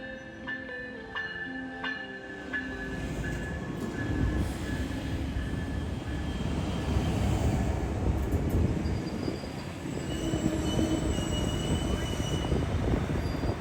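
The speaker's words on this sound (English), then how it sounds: "Leading Train 11 today are two Siemens ALC 42s, numbers 340 and 303, behind which is a single Viewliner 2 baggage car and 7 Superliner coaches" Amtrak train 11 led by two Siemens ALC-42 locomotives, pulling a Viewliner II baggage car and seven Superliner coaches, rumbling loudly past at close range with a rising roar and faint high squeals and tones early on.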